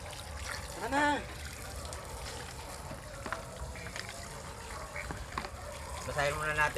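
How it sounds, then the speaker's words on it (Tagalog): Water trickles and splashes as it is poured over freshly cooked snails to cool them, faint and intermittent, with a voice speaking over it. "Basahin muna natin ng tubig para lumamig."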